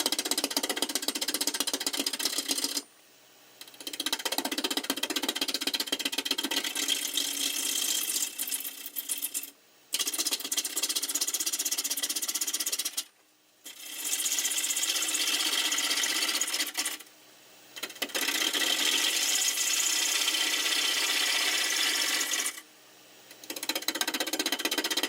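A wood lathe spins an off-centre wing bowl while a gouge takes roughing cuts, a rhythmic rattling, chattering cut noise in several long bursts broken by short pauses.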